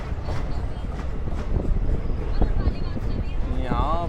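A slow passenger train on the Old Delhi–Haridwar line rolls into Muradnagar railway station with a low rumble, scattered clanks and a rising squeal near the end, while a voice talks over it.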